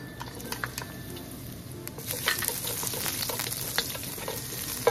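Garlic sizzling and frying in hot cooking oil in a heated pan, a steady crackling hiss with small pops and occasional stirring scrapes, growing a bit louder partway through.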